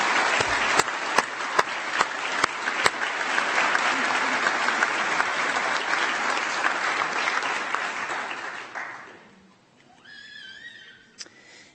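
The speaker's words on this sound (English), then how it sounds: "Please give them a round of applause for their contribution to the profession." An audience at a dental hygiene pinning ceremony breaks into sustained applause, a dense wash of clapping with a few sharp claps at the start, fading out near the end before a brief trailing sound.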